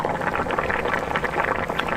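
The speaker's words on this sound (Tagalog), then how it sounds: "Yan, kumukulo na siya pero hindi pa rin siya luto." Mung bean soup with dried shrimp bubbles vigorously in a pot on the stove, a dense, continuous gurgling simmer with no voices.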